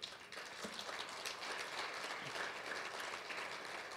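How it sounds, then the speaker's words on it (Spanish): A church congregation applauds steadily at a Sunday service, a dense wash of many hands clapping at once that holds from start to finish with no one speaking over it. "Denle un fuerte aplauso al Señor."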